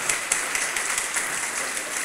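Congregation applause at a church sermon, a steady dense wash of clapping from many hands filling the room, fairly loud and sustained throughout with no one talking over it.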